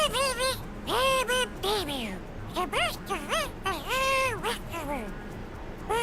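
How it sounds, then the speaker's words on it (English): A character in Spyro 3: Year of the Dragon, Midnight Mountain speedway, voices in buzzy, kazoo-like honking bursts, a rapid run of nasal squawks repeating throughout with brief pauses, loud and close. "Sounds like they had him voice actor a kazoo."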